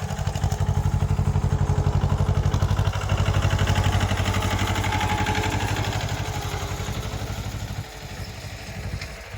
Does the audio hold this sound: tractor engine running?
yes